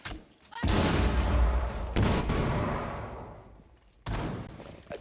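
A frag grenade goes off in the game Rainbow Six Siege: a run of heavy, booming blasts in quick succession, each trailing off in a rumbling tail before the next strikes.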